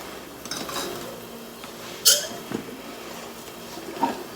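A knife slices through a toasted, crispy spicy potato sandwich, giving one sharp crunch midway through a quiet kitchen with a few faint taps.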